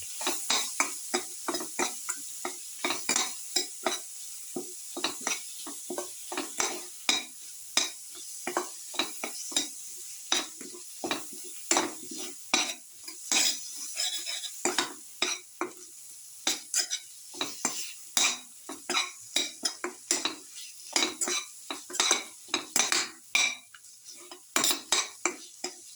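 Ingredients being sautéed for a garlic potato tomato rice casserole, with rapid clinks and scrapes of a utensil against the pan over a light sizzle, going on steadily throughout.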